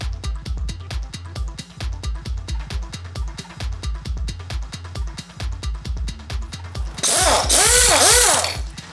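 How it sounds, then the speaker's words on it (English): A coil spring compressor ratchets steadily on a BMW M3 coil spring, giving a fast, even series of sharp clicks close up, followed near the end by a louder burst of hissing, squealing noise. "I bought this coil spring compressor for 20 bucks. Attach it to the spring and compress both sides evenly."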